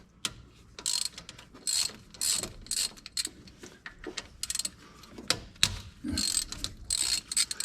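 A ratchet wrench clicks in quick, irregular bursts while loosening bolts on the carburetor of a Suzuki mini truck, close and fairly quiet, with brief pauses between strokes.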